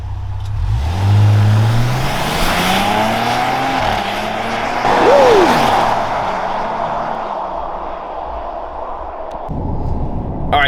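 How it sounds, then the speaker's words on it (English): A 2023 Grand Wagoneer Obsidian L SUV with a 3.0 Hurricane engine roars and revs hard as it launches from rest on rough Texas roads, with a brief tire squeal and a steady, loud drone as it picks up speed. "Let's see what the takeoff of this thing actually can do with this new Hurricane engine."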